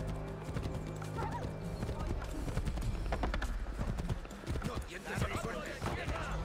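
Clip-clopping hooves of a galloping horse in Assassin's Creed III, a steady loud rhythm over dense game sound with a horse whinny and someone talking over it.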